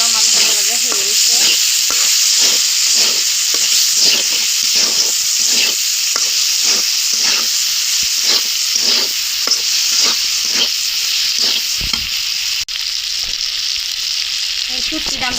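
A spatula stirs frying masala with chopped tomato and salt in hot oil, scraping in a steady rhythm of repeated strokes over a constant loud sizzle, with no talking.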